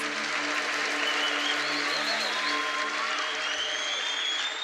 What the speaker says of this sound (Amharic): ለጌታ ክብር አጨብጭቡ